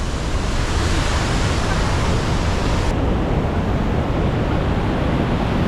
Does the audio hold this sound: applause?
no